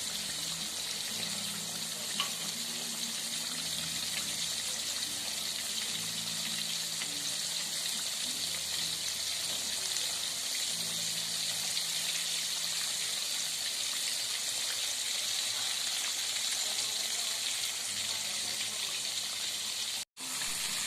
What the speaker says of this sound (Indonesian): dengan bantuan serok kita ciprati dengan minyak agar bagian yang tidak tercelup itu tetap bisa masak